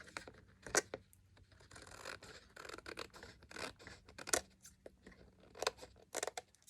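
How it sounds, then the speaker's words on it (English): Scissors snip through a piece of paper card stock, a series of close, crisp cuts and scratchy rustles in an irregular rhythm. "it's really easy to just snip that right away"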